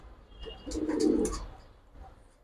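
A military breed pigeon coos once, a low throaty rolling call swelling and fading near at hand, with faint rustling around it.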